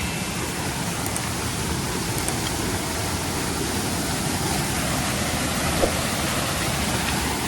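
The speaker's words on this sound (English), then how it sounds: "the waterfall is pretty cool." Tan Rua waterfall on Koh Samui, swollen after a week of rain, pours in a dense, constant roar of rushing water, loud and close throughout with no voices.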